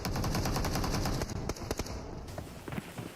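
Rapid automatic M16 rifle fire in the video game PUBG rattles out in a dense, steady burst, then breaks into scattered single shots and shorter volleys.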